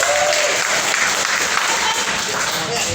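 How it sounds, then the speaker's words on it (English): A comedy club audience gives a loud, dense round of applause with some cheering, close and continuous throughout. "How many people, by round of applause, how many people are here to support one of their buddies"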